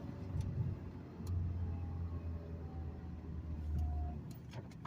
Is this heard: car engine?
yes